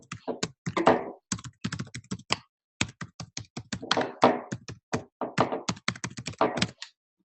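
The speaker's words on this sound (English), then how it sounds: "Let me type in the link right now" Someone types a web address on a computer keyboard, producing close, crisp rapid keystrokes in uneven flurries with short pauses, heard alone.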